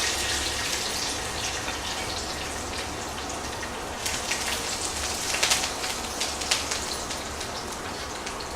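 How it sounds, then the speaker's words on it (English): Garlic and curry leaves sautéing in hot oil for cauliflower nasi goreng, giving a continuous, even sizzling hiss with scattered crackles and pops throughout. "Saute this for a while to infuse the oil with the flavors of garlic and also curry leaves into the oil itself."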